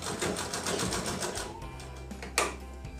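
A tailor's sewing machine stitching a seam on a ladies' pant, a rapid close rhythmic chatter for about a second and a half, then stopping with a low hum and a single sharp click.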